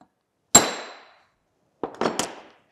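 A brass punch struck with a hammer to seat a bronze bushing during a horizontal boring mill restoration, giving one sharp metallic clang followed by three quick ringing taps after a pause.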